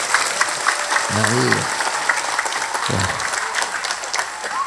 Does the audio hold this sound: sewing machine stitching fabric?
no